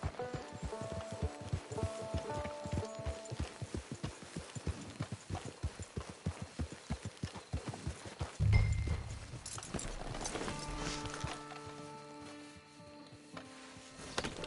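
Rapid, steady clip-clop of horse hooves in Red Dead Online, galloping close by for several seconds before slowing, with a thud, some clatter and lighter movement sounds afterward.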